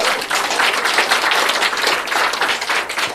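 An audience at a network-marketing business seminar claps in a thick, continuous round of applause, many hands together, loud and close, without pause.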